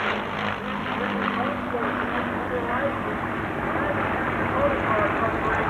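A P-51 Mustang fighter with a 1,495-horsepower Rolls-Royce engine at a 1995 air show in Clark County, Indiana, roaring steadily and loudly throughout, with a broad engine drone beneath a public-address voice.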